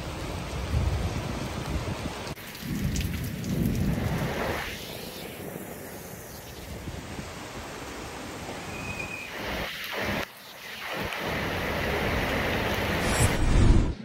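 Steady heavy rain pours down during an unseasonal downpour near Khed, Pune, a dense continuous hiss with a low rumble and brief breaks, no voices.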